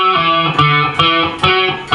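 Distorted electric guitar plays a riff, sustained chords with sharp re-attacks roughly every half second, loud and alone.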